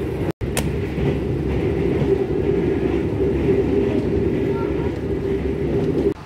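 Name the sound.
Ciremai passenger train travelling Cirebon to Bandung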